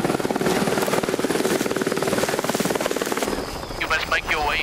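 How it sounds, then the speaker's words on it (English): A helicopter hovers nearby during a black rhino rescue in Africa, its rotor chopping in a steady loud pulse, with voices faintly beneath and the thrum shifting slightly toward the end. "reach the hovering helicopter as best he can"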